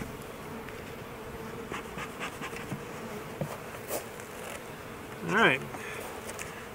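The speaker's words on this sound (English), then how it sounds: "So let's see what these girls have been up to." Honey bees in a swarm trap being moved to an apiary hum steadily at close range, with one louder buzz as a bee passes near, and a voice speaks briefly.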